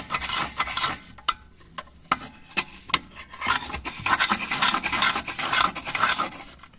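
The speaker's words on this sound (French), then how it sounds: "on va tout simplement tourner la brosse au fond de la grille" A brush scrubs and rasps around the metal grate of an Altech pellet stove during cleaning, close scratchy strokes in irregular bursts with a few sharp knocks, loud and without talking.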